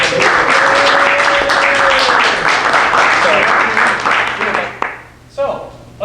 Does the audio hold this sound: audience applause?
yes